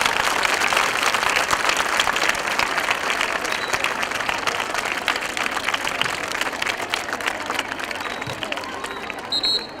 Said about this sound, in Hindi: इसलिए जोर से तालियां बजाओ